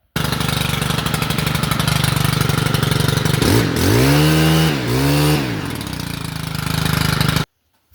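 A Stihl FS90R string trimmer engine runs after a carburetor replacement, idling loudly and steadily up close, briefly revving up twice in the middle, then cutting off sharply at the end.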